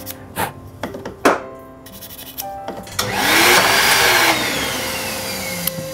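A fine file rasps briefly against a handmade wooden quena flute, a scratchy burst of about a second following a few short knocks and tones.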